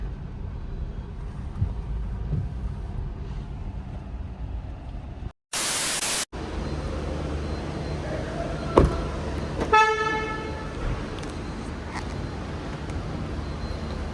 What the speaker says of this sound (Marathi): ॲज युजल मुंबईची ट्रॅफिक.